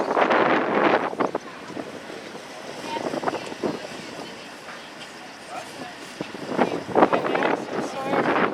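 Wind buffets the microphone aboard a car ferry crossing to Washington Island, with rumbling gusts swelling and fading over a low engine and water wash, while people talk briefly.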